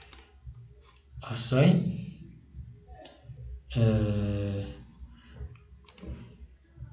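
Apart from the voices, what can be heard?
mouse clicking in software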